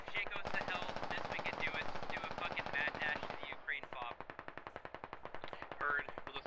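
Loud bursts of rapid automatic gunfire from the video game Squad crackle back to back, with single shots scattered between the bursts.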